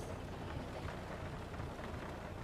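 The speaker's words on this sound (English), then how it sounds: "It is raining." Steady rain in a flight simulator, falling around a Zibo-modded airliner being started at Bratislava airport, a dense, even wash of drops with no breaks and no voices.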